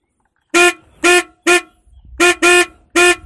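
Six short, shrill honks from a Honda GL Max 125 motorcycle horn, close and loud with a thin, tinny tone, sounded in quick bursts with brief gaps and a slight idle rumble underneath.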